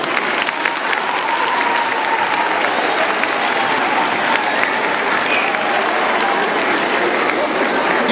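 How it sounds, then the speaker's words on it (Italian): A school audience applauds the principal, sustained full-room clapping that holds steady throughout, with a faint murmur of voices mixed under it. "Allora un applauso lo facciamo."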